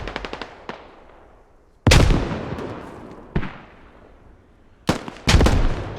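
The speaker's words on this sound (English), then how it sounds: "just lobbing nades" Grenades exploding in the combat video game Squad: a rapid burst of cracks at the start, then several loud heavy blasts with rumbling decay, spaced irregularly and ending in two close booms, with no talk.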